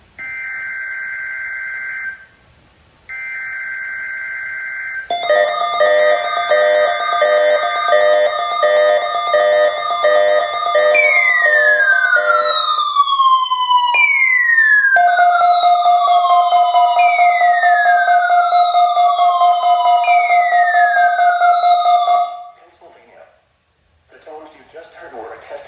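Emergency Alert System tones from a NOAA weather radio: a loud two-tone burst repeated, then a long warbling multi-tone attention signal with sweeping chirps, ending abruptly before faint sound resumes.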